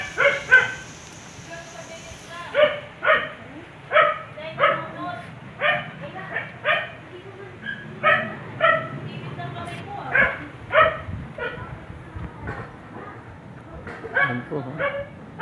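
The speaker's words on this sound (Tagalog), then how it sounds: "Medyo kinakaban yung aso namin eh." A dog barks repeatedly in short, evenly spaced yips, with whimpering between them, fairly close and over a quiet background.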